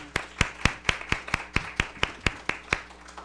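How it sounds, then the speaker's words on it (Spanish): A few people clap sharply in a small conference audience welcoming a guest teacher, about a dozen distinct, evenly spaced claps that sound close and clear with no talk over them. "Entonces le agradecemos y le damos eh, la bienvenida a la maestra Araceli con un aplauso."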